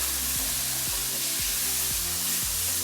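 Lamb sears in a hot pan with a loud, constant, dense sizzle that fills the clip, broken by faint periodic low thumps. No one speaks.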